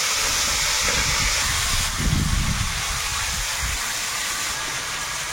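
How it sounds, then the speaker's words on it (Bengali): Potatoes frying in hot oil in a wok, a dense, even hissing sizzle that stays loud and steady, with a brief surge of bubbling in the middle. "কড়াইতে তেল দিয়েছি, আর এখন এই আলু দিয়ে ভেজে নেবো।"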